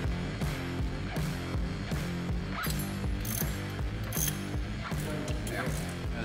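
Impact gun working on tight engine head bolts of a 2015 Chevrolet Silverado, a loud rapid rattling hammer with a regular pulsing rhythm, continuous for several seconds.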